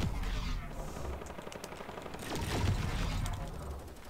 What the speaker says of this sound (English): Why is he shooting my builds?